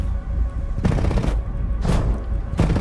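Cannon fire from a J-7E jet fighter in a flight combat video game: two or three loud bursts of rapid gunfire about a second apart over a constant engine roar.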